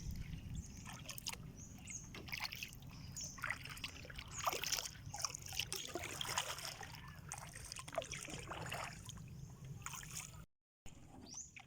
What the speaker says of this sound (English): Really touching the trees, gliding on the glassy surface.